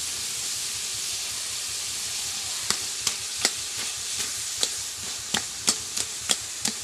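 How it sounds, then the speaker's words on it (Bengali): Potatoes being mashed into spinach curry in a pan, a constant sizzle and steam hiss with about a dozen sharp, evenly spaced knocks of a spoon in the second half. "তো আমি এবার আলুগুলো ঘেঁটে দেবো।"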